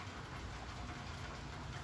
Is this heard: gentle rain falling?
yes